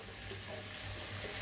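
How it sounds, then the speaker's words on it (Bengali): Hot water poured into a simmering Bangladeshi tengra fish curry with potato and eggplant in a home kitchen, a steady, soft hiss of liquid splashing and sizzling in the pan throughout, fairly quiet with no talking. "এখন আমি গরম পানি দিয়ে দিব।"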